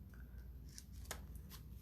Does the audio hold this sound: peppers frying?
no